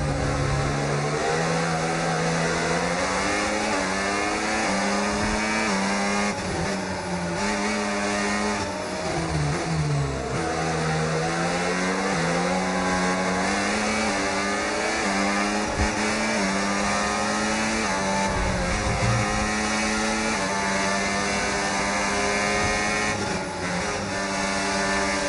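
An F1 racing car engine in the video game F1 25 screams continuously, its pitch rising and dropping repeatedly through gear changes and braking, loud and close throughout.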